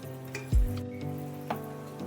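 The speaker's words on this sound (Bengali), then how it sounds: "এবার আস্তে করে আমি ভাজা পনিরগুলো এর মধ্যে দিয়ে দেব।" Fried paneer pieces drop into a boiling, bubbling gravy in a pan, giving one soft thud and a brief sizzle, then a second smaller splash over a low steady bubbling.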